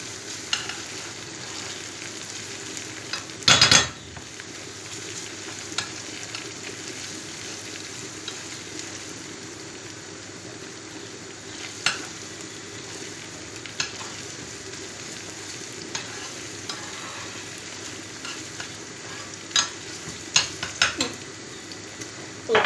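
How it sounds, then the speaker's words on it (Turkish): Onions sauté quietly in a pan for lentil soup, a low steady sizzle with a few clinks of a utensil against the pot and one brief louder clatter, close and unvoiced. "Çorbanın soğanı kızlar kavrulmaya başladı."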